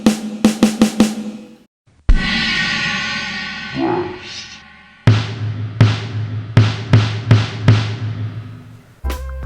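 Drums play close up: a quick run of hits, a ringing crash with the bass drum that fades out, then a pattern of punchy bass drum and snare strikes that decay evenly.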